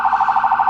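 A police Suburban's electronic siren on its yelp setting wails in a fast, steady warble, loud and close, repeating about a dozen rapid up-and-down cycles with no voices over it.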